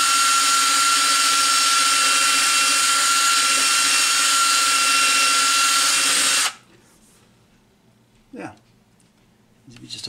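A turntable dust cover being sanded with P800 sandpaper on a power tool from a 3M headlight restoration kit, giving a loud, steady whirring drone that stops abruptly, followed by a few faint handling knocks.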